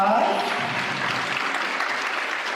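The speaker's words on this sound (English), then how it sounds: "give yourselves a round of applause." An audience at a live women's keynote event applauds, a dense, steady wash of clapping that starts strong and tapers slightly while staying loud throughout.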